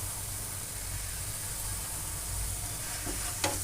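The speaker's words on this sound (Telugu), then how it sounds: "అల్లం వెల్లిగడ్డ పచ్చివాసన పోయేదాకా వేయించుకోవాలి" Ginger garlic paste fries in a pan with a steady, even sizzle and a faint stir near the end, close and uninterrupted.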